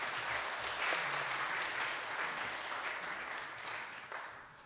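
Congregation clapping in congratulation during an awards presentation at a Korean Methodist church Sunday morning service, steady, moderately quiet applause from many people that tapers slightly toward the end.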